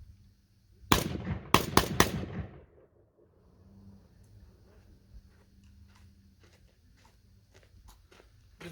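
Black Aces Tactical FD12 bullpup 12 gauge shotgun firing 7.5 target loads, with four loud sharp blasts in quick succession at close range, followed by faint clicks and handling noise.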